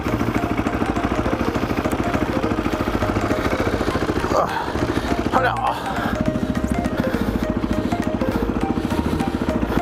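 A dirt bike fitted with panniers runs with a steady, close, buzzing engine drone that holds constant throughout, with a brief muffled disturbance partway.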